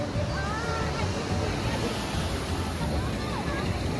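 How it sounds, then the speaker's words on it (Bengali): Sea waves wash onto Puri beach in a steady roar mixed with wind buffeting the microphone, with faint crowd sounds in the background. "জাস্ট ঢেউ দেখো।"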